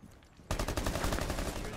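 After a brief quieter moment, sudden loud rapid-fire gunfire erupts in Rainbow Six Siege, a dense burst of shots continuing to the end.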